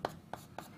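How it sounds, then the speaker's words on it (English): Chalk tapping and scraping on a lecture blackboard in three short, quiet strokes, close by in a quiet room. "I guess I need to write that here on the blackboard"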